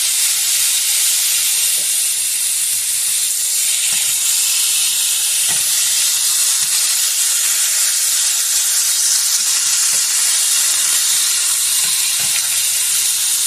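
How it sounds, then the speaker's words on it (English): Beef sautés in a skillet with a loud, continuous hiss and sizzle that stays steady and close throughout, with a few faint clicks underneath. "you want to add your beef to your skillet. And then saute this."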